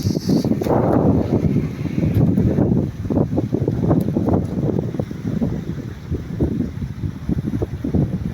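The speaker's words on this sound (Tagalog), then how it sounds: "Mahangin, oh. Malamig ang simoy ng hangin." Gusty wind buffeting the microphone, rumbling and rushing steadily, with a faint wash of sea in the background.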